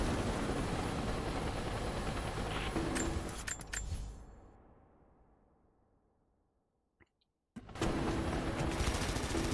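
A helicopter boss fight in the video game Rise of the Tomb Raider: a dense roar of rotor noise and rattling gunfire fades away to near silence, then cuts back in abruptly at full loudness.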